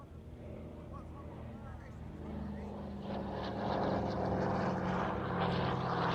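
A Douglas Dakota 3 propeller aircraft flies past at an airshow, a broad rumbling engine drone that swells steadily louder, with a commentator talking over it.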